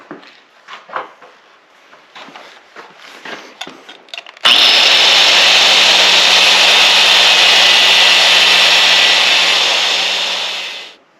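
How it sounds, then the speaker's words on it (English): A power saw cuts a slot into a homemade metal-bending tool, running loud and steady for about six seconds before winding down, preceded by scattered clattering and handling noises. "we're going to go ahead and cut a slot in here for where our steel will lay"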